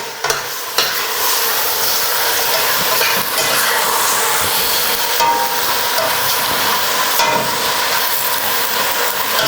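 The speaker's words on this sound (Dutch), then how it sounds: "Terwijl hij meebakt, je zet het vuur altijd een beetje lager, zodat hij niet gaat aanbranden" Food sizzles and crackles steadily in a pan over lowered heat, a continuous hiss with occasional stirring scrapes and small pops, close by.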